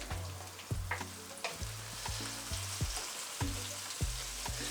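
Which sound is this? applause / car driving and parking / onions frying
onions frying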